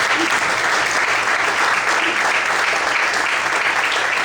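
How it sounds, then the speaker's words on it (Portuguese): A church congregation applauding loudly and steadily, a dense sustained wash of many hands clapping close by, with faint voices mixed in. "Você pode aplaudir o Senhor bem forte"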